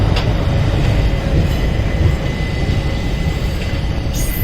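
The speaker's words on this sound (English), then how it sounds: "You can see a diesel locomotive here." A diesel locomotive train leaves Tiruchirappalli station in India with a steady, continuous rumble of rolling wagons and faint rail squeal. The sound carries no voices.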